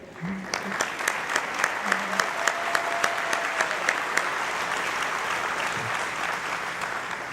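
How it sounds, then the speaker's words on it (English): Audience applause at the Carver High School Class of 2013 graduation ceremony, a steady wash of many hands clapping with some louder individual claps standing out, continuing throughout and fading only slightly. "We can applaud, that'd be great."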